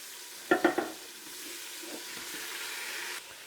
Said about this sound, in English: the onions have softened, so now we're going to put the meat back in